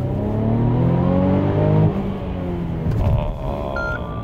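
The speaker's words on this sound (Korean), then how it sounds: "가속 페달을 끝까지 밟아보면" A Mercedes-Benz E-Class premium mid-size sedan accelerates at full throttle, its engine note rising loudly and steadily, dipping briefly at a gear change and then climbing again under cabin road noise, with no talking.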